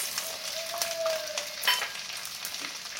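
Small onions and garlic cloves sizzle and crackle in hot oil in a pan, a close, steady frying hiss with a brief tonal squeak and a few stirring clatters.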